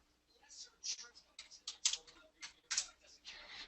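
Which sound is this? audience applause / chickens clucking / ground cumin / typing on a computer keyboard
typing on a computer keyboard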